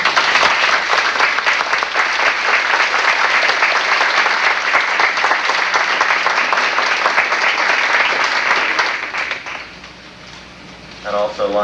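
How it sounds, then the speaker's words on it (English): An audience at a 1988 high school band concert gives the band students a round of applause: dense, loud, sustained clapping for about nine seconds that then fades out. "so if you could give them a round of applause."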